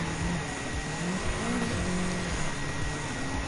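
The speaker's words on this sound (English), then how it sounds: "driving with this rally car version of the Lancia Delta is quite good" A Lancia Delta rally car engine in Gran Turismo 7 drones steadily with shifting pitch as it revs and changes gear, continuous and alone with no voices.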